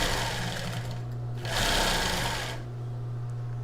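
A sewing machine runs a small zigzag stitch on a plus-size bra strap. It makes a steady close mechanical whir that swells into a brief louder burst midway before settling back to a hum.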